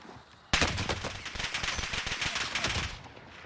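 Video game gunfire erupts abruptly and loudly, a rapid run of sharp shots and bursts that lasts about two and a half seconds before cutting off, with no talking.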